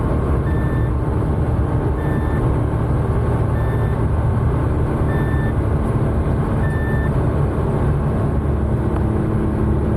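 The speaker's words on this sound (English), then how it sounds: "if I go over 85 kilometers, there's a speed alarm" A car's speed alarm beeping over 85 km/h, short evenly spaced electronic beeps about every one and a half seconds, repeating over loud road and engine rumble.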